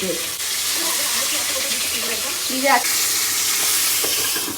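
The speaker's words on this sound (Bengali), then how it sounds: "মাছ ভাজা। এত তেল ছেটে সব জায়গায়" Fish sizzles and spits in hot frying oil, a steady crackling hiss that runs throughout, close to the pan, with a brief clatter of stirring partway through.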